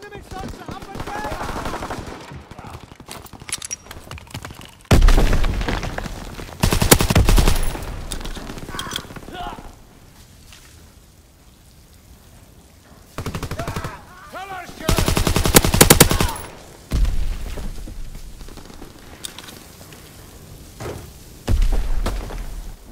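Bursts of rapid machine-gun fire and heavy shots from the Call of Duty WWII video game hit loudly in several separate volleys, with quieter stretches between them where game sounds and faint radio-style voices carry on.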